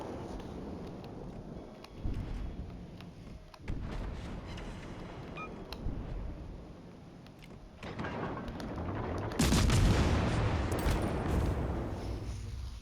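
Ship guns in a naval battle game fire at a target in repeated heavy booming volleys, with a large, loud broadside burst near the end over continuous rumbling battle noise.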